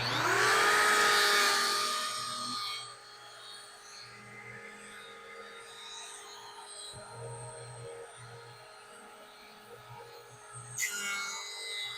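An electric hand planer cuts across wood with a loud, high whining buzz at the start, then winds down to a lower hum and quieter motor noise, with a brief surge near the end.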